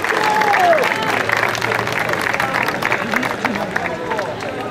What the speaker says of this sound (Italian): Fabrizio Fallanca, primo assoluto, un applauso, dai!